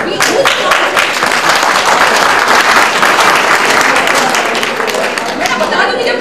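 A large audience at a college workshop in India applauds loudly and continuously, dense clapping filling the whole stretch without a break.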